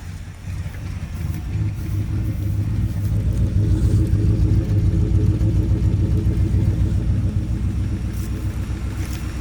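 Engine and exhaust of a 1964 Plymouth Barracuda V8 running after years of sitting, a close, loud, rumbling idle with a throbbing low pulse that swells slightly and holds steady for about nine seconds.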